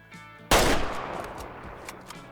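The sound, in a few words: hunting rifle (.300) shot in Way of the Hunter video game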